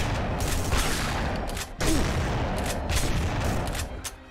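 Dense, steady gunfire in The Punisher video game, a continuous loud barrage of overlapping shots with a brief dip midway before it resumes at full intensity.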